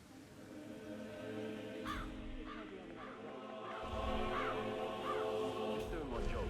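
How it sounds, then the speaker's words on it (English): Crows caw near their nests in Hitman III, repeated harsh calls at a steady pace over a dense ambient bed of background game sound that swells partway through. "Damn birds! If I could just get a clear hit on those nests."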